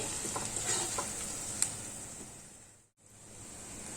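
Onions cooking gently in oil in a pan, a steady soft sizzle with light stirring scrapes and a brief clink, briefly cutting out before resuming.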